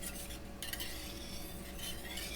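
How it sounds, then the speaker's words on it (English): Whisk stirring a cup of vegetable broth in a pot over rising heat, a steady close scraping and swishing with faint sizzling throughout, no voices. "Just going to whisk this around."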